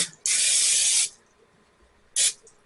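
Cooking spray hisses into a roughly 2-quart baking dish in two bursts, a long close spray of nearly a second and then a short quick one after a pause, loud and breathy with no voices.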